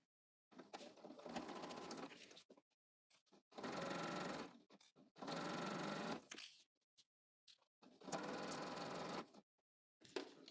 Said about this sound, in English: We're going to sew the hem, just as we did the casing, the top of the fold